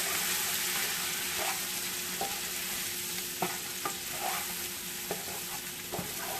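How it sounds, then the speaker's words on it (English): Minced garlic sautéing in a pan ahead of cooking oxtails, a steady hissing sizzle broken by several sharp stirring clicks and scrapes, with no voices. "And we're just going to let those just saute."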